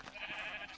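Sheep in a video game let out a single short bleat, close and fairly clear, with no talking over it.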